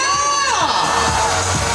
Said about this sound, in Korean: 정답을 아실 것 같은 분은 박수와 함성을 보내주세요!